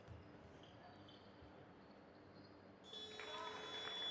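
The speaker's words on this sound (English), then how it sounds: "And the buzzer goes off." A loud electronic buzzer sounds at the end of a tertiary netball championship game between Otago and Canterbury. It cuts in over steady crowd noise in an indoor arena and holds as a sustained tone through the final seconds.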